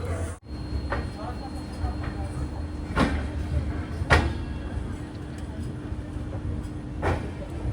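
Poorna Express sleeper coach hauled by a WDP 4D diesel locomotive, departing Pune Junction: a steady rumbling run with a low engine hum and a few sharp clanks from the wheels and couplings, heard from inside the carriage.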